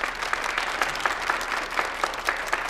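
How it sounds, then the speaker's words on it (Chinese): Guests at an evening banquet applaud after a speech, a full, even burst of many hands clapping at once, steady and fairly close, with no voices over it. "让我们再次把掌声送给我们的史蒂夫先生"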